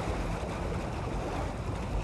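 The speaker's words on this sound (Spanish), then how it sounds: "¡La corriente se hace más fuerte!" Strong river current rushing around a raft, a dense, steady roar of churning water that fills the clip continuously without a break.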